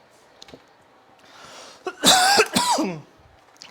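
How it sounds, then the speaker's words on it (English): A man at a tabletop wargame session gives a loud, close cough burst of two or three harsh hacks, preceded by quieter breathing and faint background noise. "You guys get to hear every cough that these guys make now."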